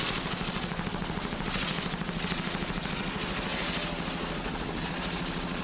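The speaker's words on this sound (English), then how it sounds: "Nice throttling there by Mike Lavorsi." A racing powerboat, a 30-foot Power Broker with twin 2.5 EFI outboards, throttles at an offshore race in Key West, giving a loud, continuous, pulsing engine roar with a fast, throbbing beat that never lets up.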